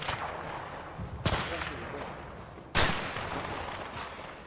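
Sniper rifle gunfire in the video game A Way Out: two sharp, loud shots about a second and a half apart, each followed by a long rumbling decay, over a steady background of game ambience.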